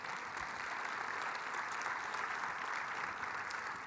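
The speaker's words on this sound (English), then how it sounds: "Please give Rich a big round of applause as well." An audience at a Philadelphia city government innovation event with the mayor claps in a sustained, even round of applause, dense and continuous throughout.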